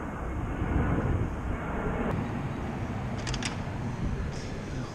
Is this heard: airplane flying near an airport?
yes